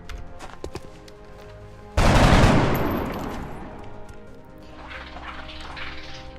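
Gunfire from soldiers shooting in XCOM: Enemy Within, a burst that starts abruptly, stays loud for about a second, then decays into a long fading rumble and trailing noise.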